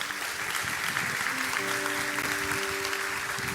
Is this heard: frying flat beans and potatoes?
no